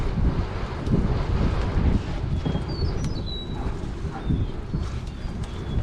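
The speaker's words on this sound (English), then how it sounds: "We have a very strong wind today. It's probably about 25 miles an hour." Strong wind of about 25 mph buffeting across an open farm pasture, a loud continuous roar with gusting surges battering the microphone.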